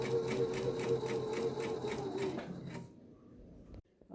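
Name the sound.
sewing machine stitching around a bonnet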